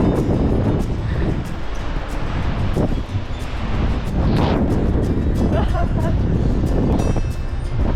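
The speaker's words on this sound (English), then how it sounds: "it's so windy" Strong wind roars continuously across the microphone on a suspension bridge with gusty buffeting, while a person speaks over the rushing noise.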